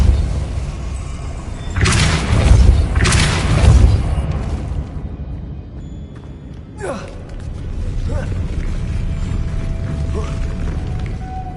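Depulso spell cast in a Harry Potter video game, heard as two heavy booming mechanical bursts early on, then a sharp creaking whoosh and a lighter mechanical rumble trailing off.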